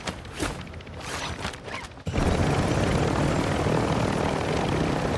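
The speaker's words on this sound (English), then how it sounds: "Trying to land my helicopter" A helicopter sets down in Call of Duty DMZ. A quieter patch of rotor sound gives way to a sudden, loud, steady roar of engine and blades that fills the rest of the clip.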